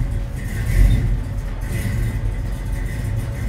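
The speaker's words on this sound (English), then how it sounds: "Listen to that, man. That's a Flowmaster." A 1968 Ford Shelby GT500KR Mustang with a 428 engine and Flowmaster exhaust rumbles at idle, a deep, steady, loud burble with a brief swell near the start.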